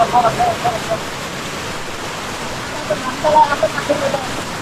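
Hill flash-flood water after two hours of heavy rain rushes in a steady, loud roar, with faint voices in the background.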